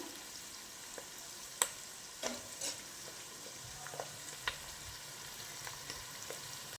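Onions cut into fairly large pieces cooking in groundnut oil for a Rayalaseema fish curry make a faint, soft sizzle, punctuated by scattered light spoon taps and scrapes, and nobody speaks.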